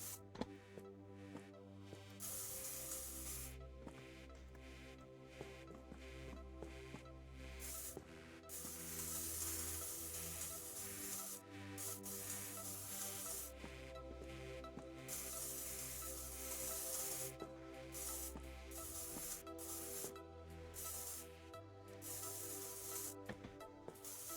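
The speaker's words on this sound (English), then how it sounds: "I'll be spray painting." Spray paint can hissing in a series of bursts, some short and some lasting several seconds, broad and close, with faint clicks and pauses between sprays.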